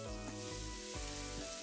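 Ginger and garlic hit hot oil in a pan with a soft, even sizzle, faint and brief with no talking over it.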